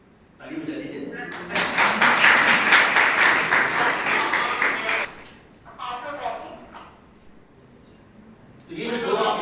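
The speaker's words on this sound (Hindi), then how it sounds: "ताली बजा दीजिए।" An audience at a National Space Day event at the Udaipur Solar Observatory breaks into loud, dense applause. It swells and holds for several seconds, then fades to scattered claps as a voice returns.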